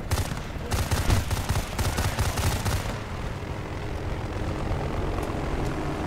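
Helicopter engine and rotor drone in the Battlefield: Bad Company 2 video game, a US Army helicopter at a Russian base, steady and continuous, with rapid gunfire bursts layered over it during the first few seconds.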